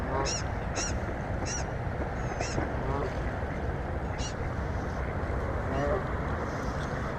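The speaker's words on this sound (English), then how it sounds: "I've got a nosy goose at the side of me here." A goose honks close by, several short separate calls spread over a few seconds above a steady rushing outdoor background.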